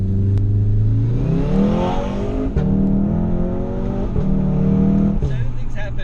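A tuned 500 HP VW Golf 7R accelerates hard through several gears, the engine and exhaust climbing in pitch with quick drops at each shift, loud and heard from inside the car with the window open.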